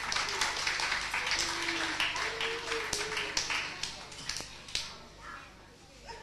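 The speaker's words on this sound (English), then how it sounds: "Give them a round of applause." Audience applause at a live stage show, a dense burst of clapping that holds steady for several seconds before thinning and fading toward the end, with no talk over it.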